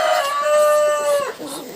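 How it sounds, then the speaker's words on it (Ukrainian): A single close, drawn-out chicken call with a strong tonal cluck that trails off, loud and clear with no talking. "Дивіться, тут кури, всі."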